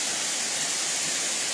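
A waterfall roars as a steady, dense wash of bright rushing noise, close and loud, with no break or other sound over it.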